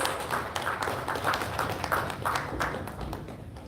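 An audience claps at a stage event as a guest is called up, a steady patter of applause running throughout with a voice faintly underneath.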